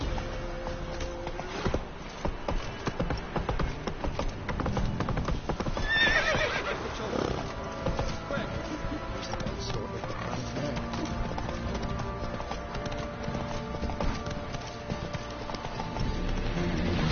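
A horse in The Witcher 3 gallops with rapid, rhythmic clip-clop hoofbeats and gives a loud whinny partway through, over a layered game soundtrack.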